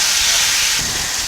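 Shrimp and vegetables with soy sauce sizzle loudly in a pan over medium-low heat, a close, intense hiss that surges briefly as the pan is shaken, with no talking.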